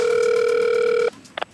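Phone line ringing out while a call is placed to a rail traffic controller: one long steady electronic ring tone cut off abruptly, followed by a couple of faint clicks as the line is picked up.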